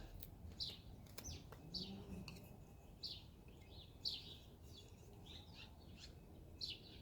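A warbler sings outdoors in summer, its bright, high chirping phrases recurring every second or so at moderate distance over a low steady background rumble.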